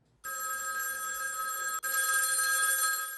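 A telephone rings on and on unanswered, with a steady electronic tone that breaks off for a split second and then resumes, loud and close.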